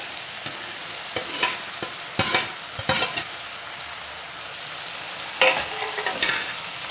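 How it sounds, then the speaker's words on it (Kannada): Vegetables and finely chopped tomato sauté in a pan for uppittu, with a steady sizzle broken by a string of sharp spatula scrapes and stirs, clear and close with no talking. "ಈಗ ನಾನು ಚಿಕ್ಕದಾಗಿ ಹೆಚ್ಚಿರೋ ಟೊಮೊಟೊನ ಆ್ಯಡ್ ಮಾಡ್ತಾ ಇದ್ದೀನಿ"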